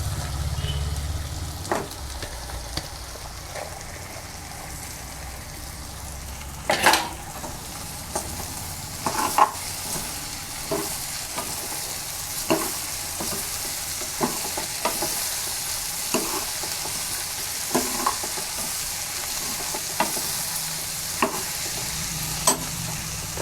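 Okra and green chili garlic paste frying in a pan while being stirred, a steady close sizzle with repeated sharp scraping taps of the spoon throughout, no voices.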